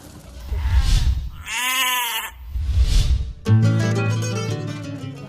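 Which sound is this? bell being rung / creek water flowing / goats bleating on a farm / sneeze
goats bleating on a farm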